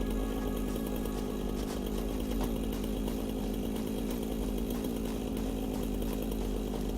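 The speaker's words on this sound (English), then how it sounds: "Chainsaw was the right choice." A buzzing chainsaw cuts trees nonstop in the video game Satisfactory, a steady gritty engine drone held at a constant level throughout, near and loud with no voices.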